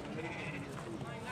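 A goat bleats at a busy goat market in Angallu, a quiet cry mixed into steady crowd noise and people talking nearby.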